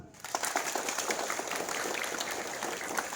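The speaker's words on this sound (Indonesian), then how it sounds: "Tepuk tangan dulu." A group of primary school children clapping together, a dense, steady patter of many hands at moderate distance, lasting a few seconds.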